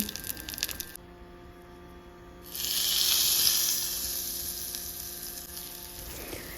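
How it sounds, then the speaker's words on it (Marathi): Cumin, mustard seeds, plenty of asafoetida and dried red chilli are dropped into hot oil for a rava dosa tempering; after a quiet moment, a sudden bright sizzle flares up and settles into a steady, close hiss. "फोडणीसाठी पुन्हा मी जिरं मोहरी हिंग भरपूरसं आणि सुखी मिरचीचा वापर केला ते घालून मग मी त्याला फोडणी दिली"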